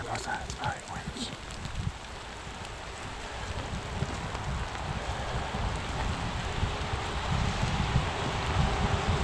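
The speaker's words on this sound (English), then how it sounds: "It's interesting to see the forest during all this rain." Steady rain patters through trees, a dense wash of drops with gusts of wind and rustling, close and continuous.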